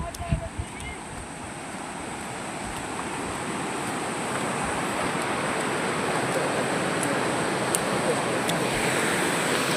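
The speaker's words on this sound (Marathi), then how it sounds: "धबधबा दाखवतो तुम्हाला. छोटाच धबधबा आहे." A small waterfall gives a steady, broad rushing wash of falling water that swells slightly after the first few seconds and stays loud and continuous, with a few faint knocks near the start.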